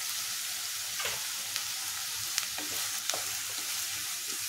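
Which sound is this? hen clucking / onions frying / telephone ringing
onions frying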